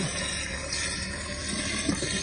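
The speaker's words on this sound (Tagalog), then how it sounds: "Punuin natin yung tangke natin, yung fresh water connection." Water running through a hose into a camper's fresh water tank at a campground, a steady hissing rush with a slight gurgle, continuous and fairly close.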